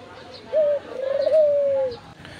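A mother bird feeding her chicks at the nest gives a close, smooth cooing call, first as a short note, then as one long wavering coo that fades out.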